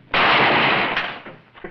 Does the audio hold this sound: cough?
no